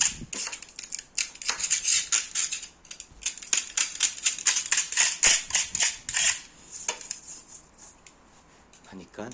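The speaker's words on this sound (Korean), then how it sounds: "그럼 이 부분을 칼을 이용해서 오려냅니다" A knife scrapes and digs out material before an elastic coating goes on, producing rapid, sharp scratching strokes in an irregular rhythm, close and fairly loud.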